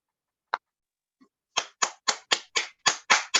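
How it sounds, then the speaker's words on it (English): Individual hand claps from a participant on an online meeting call: one clap, a faint tap, then a fast even run of about eight sharp, close claps. "Let's unmute our microphones and applaud TM Chineze."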